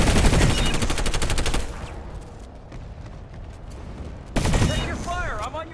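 Rapid automatic gunfire from the Planetside video game bursts loudly for under two seconds, then drops to quieter scattered shots, with a voice speaking over the tail end.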